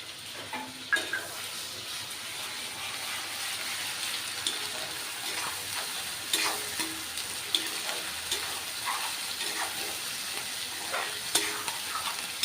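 Ground spice paste frying and being stirred in a kadai for chicken kosha, a steady low sizzle with occasional scraping and stirring knocks, close and fairly quiet, no talking.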